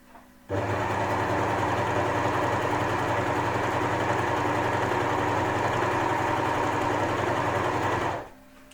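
An Amber Air S400 serger runs at a steady high-speed whir while sewing beads onto a fabric edge, starting abruptly, holding a continuous buzzing drone for about eight seconds, then stopping; close and alone.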